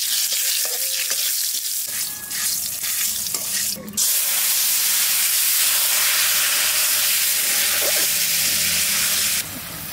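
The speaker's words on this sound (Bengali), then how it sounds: "কড়াই গরম হয়ে গেছে, তেল দিচ্ছি" Bay leaf and cumin sizzle in hot oil in a wok, a loud, steady hiss of frying that jumps up sharply partway through as the spices hit the oil, with occasional stirring clinks.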